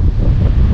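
Strong coastal wind blows beside the sea in Argentina. It buffets the microphone in a loud, continuous roar, and the low rumble of surf is partly masked beneath it.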